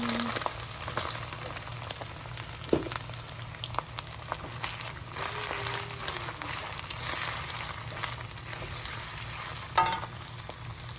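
Mixed vegetables fry in a pan for fried rice, a steady soft sizzle with scattered crackles and a few stirring knocks, no talk.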